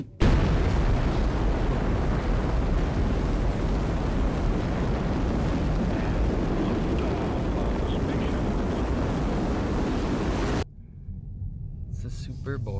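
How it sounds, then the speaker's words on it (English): A Dodge Hellcat V8 cold-starts with a loud, roaring burst that settles into a steady heavy drone for about ten seconds before cutting to a quieter idle. "You ready for this cold start?"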